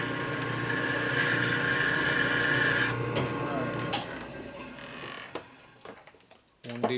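A dulled, modified deburring tool scrapes along a metal edge during a 1942 Harley WLA 45 flathead stroker motor build, producing a loud, continuous close-up grinding creak that fades into scattered scrapes and clicks.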